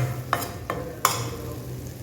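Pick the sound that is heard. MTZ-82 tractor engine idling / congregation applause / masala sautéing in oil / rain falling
masala sautéing in oil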